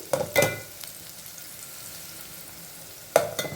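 Onions fry in a pan until half cooked for a Telangana sorrel-leaf chutney. A steady close sizzle runs throughout, with brief scraping stirs at the start and near the end.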